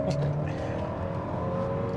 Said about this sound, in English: one more full throttle standing start